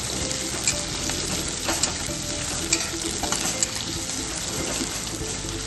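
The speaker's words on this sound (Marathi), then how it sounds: "कांद्याला छान असं परतून घ्या," Onions sautéed in a pan over a medium flame for chicken biryani give a steady, close crackling sizzle with scraping stirs and occasional clinks throughout.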